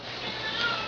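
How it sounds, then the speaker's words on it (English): A house cat lets out a single drawn-out, unhappy meow in the background, moderately loud and alone, lasting about a second. "if you can hear my cat in the background, she's not too happy with my reading out loud"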